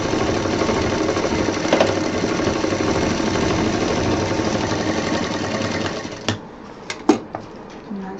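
A sewing machine stitches a handbag up to the top in one continuous, steady, close whirr lasting about six seconds, then stops, followed by a few scattered clicks and handling knocks.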